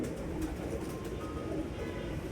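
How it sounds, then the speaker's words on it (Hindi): Soft, low cooing of a female pigeon murmurs steadily in the background, faint and close, with no one talking. "ये दोस्तों रोजी कबूतरी है"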